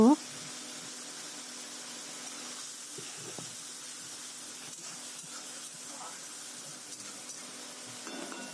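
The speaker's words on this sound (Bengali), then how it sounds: "আদা আর জিরে পেস্ট আছে সেটাই দিচ্ছি মশলাটাকে ভালো করে এবার কষিয়ে নেব" Spice masala with ginger and cumin paste sautés in a pan, making a faint, steady sizzle and hiss that holds evenly throughout.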